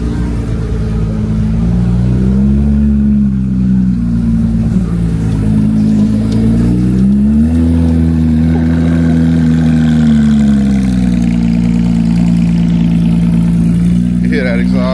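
A car engine idles with a deep, steady exhaust rumble, rising briefly in a revving swell, close by and continuous throughout.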